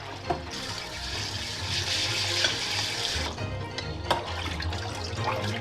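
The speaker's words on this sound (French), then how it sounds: "Il faut le rincer obligatoirement à l'eau courante froide 5 à 7 fois" Rice is rinsed under cold running tap water, a close, continuous gush and splash with a few sharper sloshes as the grains are stirred, steady and without talk.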